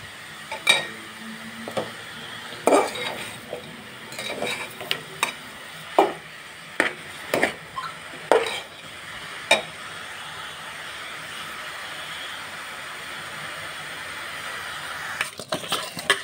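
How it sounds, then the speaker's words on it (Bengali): Fish is mixed with turmeric in a pot, making a string of scraping clinks and knocks in the first half, followed by a quieter stretch of low room noise and a final clatter, with no talking. "সেগুলো আমি ভালো করে মিক্স করে দিচ্ছি"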